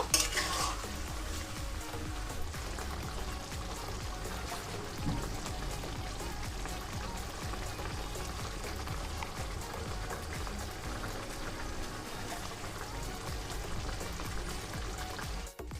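Chicken for chilli chicken simmering in a pan with a little water over a low gas flame, a soft, continuous bubbling sizzle with occasional stirring clinks, close and steady.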